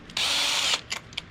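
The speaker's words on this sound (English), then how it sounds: "what I'm doing to make it this size is put it in the drill" Electric drill spinning a part for a Power Wheels Gator build, one loud whirring burst of about half a second, followed by a few short trigger blips.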